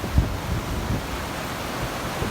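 Storm-driven wind and water rushing beneath a bridge during a late-season no-name storm front, a steady broadband roar of gusts and churning surf with low rumbling buffets, no voices.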